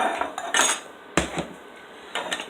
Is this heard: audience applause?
no